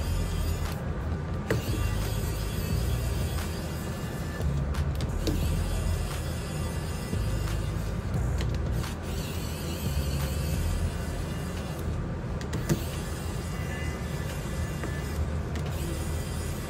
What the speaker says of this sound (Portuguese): E agora a gente vai retirar esses parafusos da parte de cima aqui